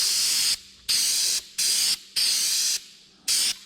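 An Agco spray can hisses out paint in five or six sharp, loud bursts of roughly half a second each, separated by short quiet gaps, close up while coating Wheatland tin on a 1950 Oliver tractor.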